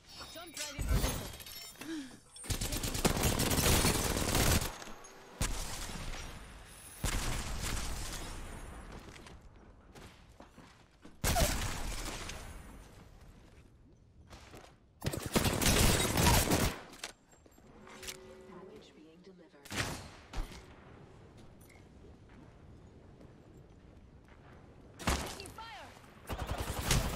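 Apex Legends gunfire comes in loud bursts of rapid shots and shattering impacts, separated by quieter stretches, with game effects filling the gaps.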